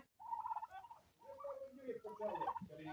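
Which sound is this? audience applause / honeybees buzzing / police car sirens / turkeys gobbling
turkeys gobbling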